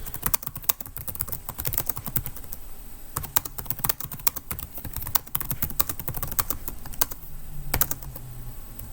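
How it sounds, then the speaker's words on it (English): Someone types steadily on a computer keyboard, close and distinct: quick bursts of key clicks with short pauses, heard alone without talking. "I'll just type that for you so you can have that as well."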